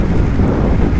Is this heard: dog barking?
no